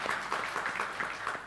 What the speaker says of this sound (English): of course, claps for Taj